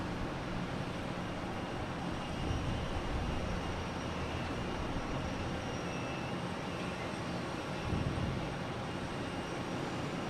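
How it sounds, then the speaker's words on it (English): An American Airlines Embraer E175 jet arrives from Indianapolis to land at Boston Logan, a broad, steady roar that holds at moderate loudness for about ten seconds. "It's American E175 coming in from Indianapolis."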